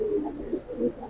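Two male pigeons cooing close by, a couple of low, rolling coos in quick succession.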